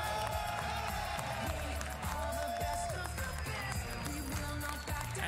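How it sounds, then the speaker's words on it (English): Crowd at a live esports grand final cheering and applauding, a loud dense roar of claps and shouts layered over music and arena sound, sustained throughout. "One more cheer for Clash Champs."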